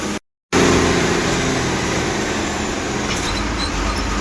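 An MSRTC Lal Pari bus leaving Mumbai Central on a night journey to Mahabaleshwar rumbles along with a continuous loud engine drone and road noise from inside the cabin, after a brief moment of silence at the start.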